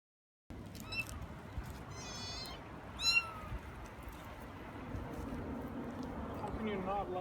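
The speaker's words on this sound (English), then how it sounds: "How can you not like kitties, Nelly?" Several cats meow in short high calls at a home in the Kond district of Yerevan, one clear burst early and a louder one midway, over steady background noise and murmur.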